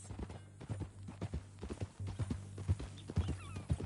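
Horse hooves clip-clop in a steady walking rhythm in the video game Red Dead Redemption 2, close and fairly soft, with faint voices in the background.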